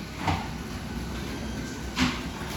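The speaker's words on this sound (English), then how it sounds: "We got the new garage door openers up on the wall, which are super quiet, by the way, and I'll put in a clip here." A quiet wall-mounted garage door opener in a Corvette garage runs with a low, steady mechanical hum and two soft thumps about two seconds apart.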